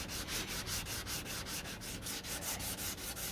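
Rhythmic back-and-forth sanding strokes scrape steadily at close range on the passenger door of a 1969 Corvette C3, about four per second, with no talking.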